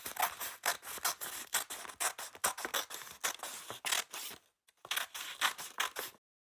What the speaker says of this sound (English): I added a crease to mark where to cut with my scissors